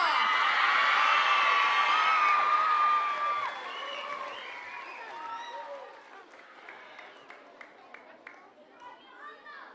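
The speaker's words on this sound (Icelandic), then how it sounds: "Ég held að þið geti gefið þeim ennþá betra klapp" A school talent show audience applauds and cheers loudly, with whoops and children's voices, then the clapping thins out and fades to scattered claps.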